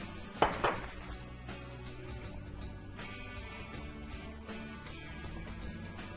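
A spoon clinks twice against a pot, then works steadily through tomato sauce and melting cheese for a gourmet pizza, giving a soft continuous scraping stir that stays fairly quiet.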